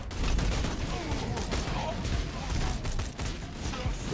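Gunfire from an enemy sniper fills a Borderlands 2 firefight as a dense, loud stream of shots and impacts. Game effects run throughout, with players talking faintly underneath.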